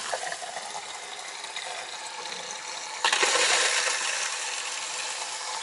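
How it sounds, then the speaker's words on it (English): Water runs steadily from a travel trailer tap while air is purged from the lines, a continuous hissing rush that grows louder and harsher partway through, likely as a sputter of air clears. "Still got some air to purge from the lines, but it looks like the water heater tank is full"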